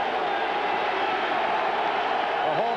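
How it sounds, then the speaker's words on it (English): The home crowd at a 1992 New York Jets game against the Cincinnati Bengals keeps up a continuous, loud, distant roar in the stadium, with a commentator talking over it. "The home crowd urging the Jet defense on."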